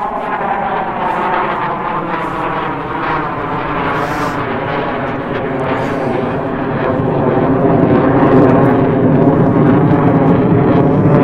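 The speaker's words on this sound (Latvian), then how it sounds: "fonā te reaktīvā lidmašīna man iet" A jet airplane flies overhead at low altitude, a loud, steady broadband engine roar that holds throughout and swells toward the end as it passes closer.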